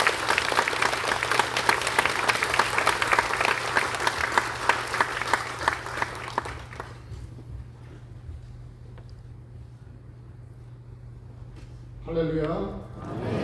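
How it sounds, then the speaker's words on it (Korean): A church congregation at a Korean Liberation Day joint worship service claps loudly and steadily as a pastor comes forward. The clapping fades to a quiet room, then a brief voice speaks near the end. "우리 목사님 나오실 때 우리 박수로 한번"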